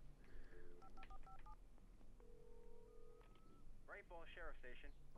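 A short burst of touch-tone keypad beeps in a video game, then a long steady tone and a ringing signal, with a voice speaking over the line near the end.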